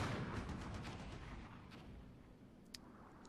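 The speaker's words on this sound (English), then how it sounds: "Artillery coming in." Artillery barrage in the military simulation game Armored Brigade, a low, fairly quiet rumble of shells landing that tapers off, with a sharp brief crack near the end.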